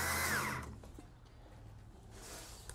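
A power drill drives drywall screws into a wooden bird house, a brief loud whir at the start that cuts off, then quiet handling noises and a faint second whine near the end.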